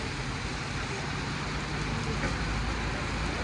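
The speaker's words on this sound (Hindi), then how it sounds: "इस समय चल रही है बहुत ही बढ़िया मूसलाधार बारिश" Heavy monsoon downpour at a roadside tea stop on the mountain road from Rishikesh to Badrinath during a motorcycle trip, a dense, steady roar of rain filling the whole clip with no breaks.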